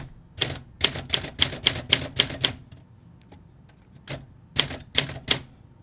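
Keys struck on an Olympia SM5 manual typewriter, a quick run of about eight sharp close clacks, a pause with faint mechanical ticks, then a few more strikes.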